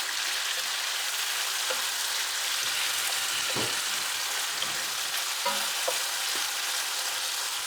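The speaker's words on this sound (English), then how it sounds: "I'm just going to saute this for a little while" Vegetables and saltfish sauté in a hot pan with a steady, close sizzle, broken by a few soft scrapes and stirring knocks; no voices.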